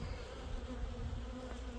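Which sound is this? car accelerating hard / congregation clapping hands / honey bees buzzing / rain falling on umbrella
honey bees buzzing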